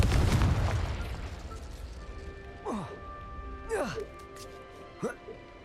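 Confringo, the fiery explosive spell in the video game Hogwarts Legacy, going off as three short bursting pops with swooping whooshes, each following a spoken cue, over a rumbling blast at the start and faint sustained tones.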